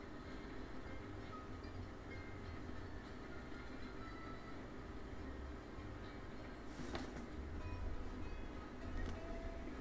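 A train rolls along in the Railroads Online game, a steady dense rumble with rail clatter that holds for the whole stretch and swells a little near the end, with a brief sharp squeal partway through.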